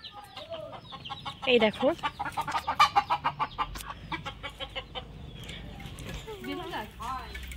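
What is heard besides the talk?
chickens and chicks clucking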